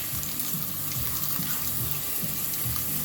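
Beef brisket searing in a dish on the stove, a steady, fairly loud sizzle and crackle of frying with faint intermittent stirring or scraping sounds, no voices.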